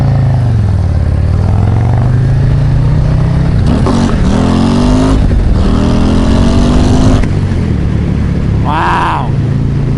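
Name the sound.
Harley-Davidson Screamin' Eagle 135 Road Glide ST motorcycle riding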